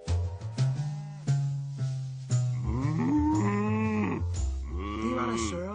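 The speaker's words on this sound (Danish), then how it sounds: "Det er køerne, der er sluppet ud." Escaped cows low in an animated children's story, several drawn-out moos rising and falling one after another, loud and close, with no speech over them.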